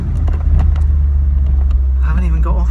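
Car driving on the road at night, a loud steady low engine and tyre rumble heard from inside the cabin, with talking over it.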